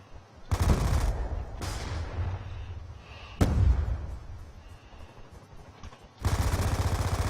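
Several sharp gunfire bursts from the Call of Duty video game crack out at intervals, each a loud broadband blast with a short decaying tail over a steady low game hum.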